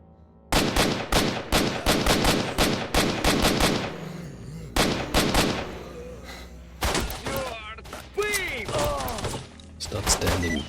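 Rapid bursts of gunfire in the shooter game STALKER: Shadow of Chernobyl Enhanced Edition, with dense clustered shots, automatic volleys and short pauses throughout, loud and close, with a brief stretch of other game sounds and voice-like calls in between.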